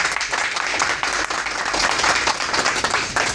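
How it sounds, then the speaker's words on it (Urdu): A crowd at an open public hearing claps in a lively, uneven round, individual hand claps standing out within the steady applause, close and moderately loud. "تالیاں بجاؤ جی."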